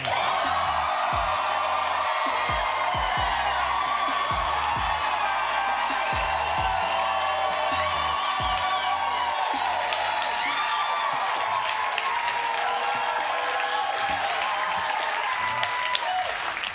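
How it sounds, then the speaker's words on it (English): A studio audience roars with sustained applause, whoops and cheers, a loud, dense crowd wall that keeps going without a break. "leading to a roar of applause from the audience"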